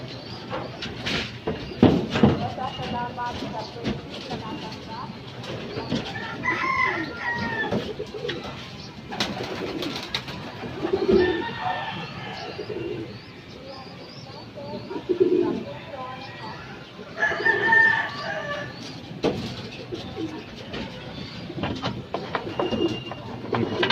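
Racing pigeons coo repeatedly as they enter the loft, their soft low calls coming close in several clusters while people talk intermittently nearby.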